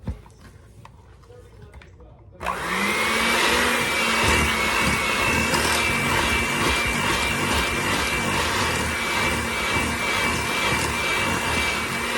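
Electric mixer beating vanilla into peanut butter chocolate chip cookie dough, switching on abruptly after a quiet stretch with faint talk, then a loud, steady whirring drone with a high whine held to the end.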